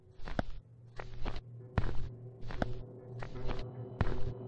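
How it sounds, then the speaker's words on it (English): Heavy footsteps thud through a basement in a horror video game, a slow regular tread of about eight steps, close and distinct against a low steady hum. "I do hear footsteps."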